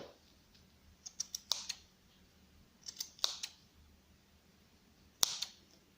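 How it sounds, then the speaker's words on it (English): Cutting the wire ends of a handmade wool ironwire flower: a handful of crisp, sharp snips in small clusters, close and quiet against a still background. "Now what we do is we cut the ends,"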